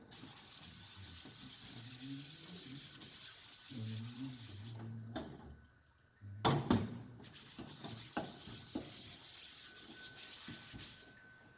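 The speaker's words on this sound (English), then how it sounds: "I'll use my degrease scrub pad." A degrease scrub pad is worked over a screen-printing screen while reclaiming it, giving a continuous close hissing scrub with strokes that rise and fall, a short pause midway, and a low hum beneath.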